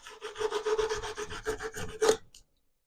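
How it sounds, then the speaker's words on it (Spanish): Sanding a PVC pipe rod holder by hand, a steady run of raspy rubbing strokes, fairly close and continuous for about two seconds before stopping. "Lija muy bien todo."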